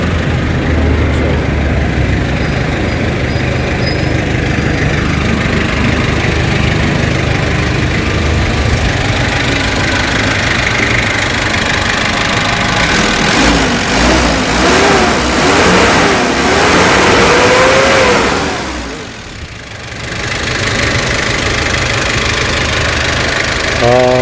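Kia 2700 diesel truck engine with low power, idling with a knocking rumble and then revving up and down before easing back, heard close with people talking over it.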